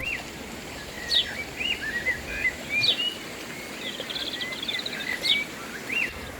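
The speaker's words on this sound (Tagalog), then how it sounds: "maliban sa huni ng mga ibon at banayad na agos ng ilog" Birds chirp in short, repeated bursts over a constant soft wash of a gently flowing river, the calls scattered and moderately faint.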